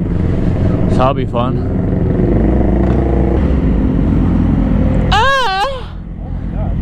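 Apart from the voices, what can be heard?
group of motorcycles riding off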